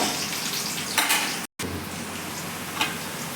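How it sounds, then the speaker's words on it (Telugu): Curry leaves and two green chillies frying in a pan for fish curry, a close, continuous sizzle with a brief dropout midway and faint stirring ticks. "ఫస్ట్ నేను కరివేపాకు వేసుకున్నాను, 2 పచ్చిమిర్చి వేసుకున్నాను, ఇలా ఫ్రై చేసుకుంటున్నాను"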